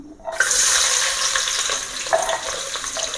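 Hot oil sizzles loudly in a pan while cooking gongura chicken curry, a sudden burst of dense hissing that starts and then holds steady.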